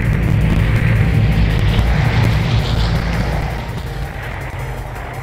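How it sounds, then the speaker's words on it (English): A propeller airplane passing overhead in the survival shooter game Vigor, a loud steady low engine drone with a rough hum that slowly fades over about five seconds, no voices. "I'm just waiting on that plane noise."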